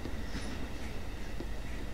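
A train runs steadily in a horror video game, with a continuous rumbling roll and faint rhythmic clatter of wheels. No voices.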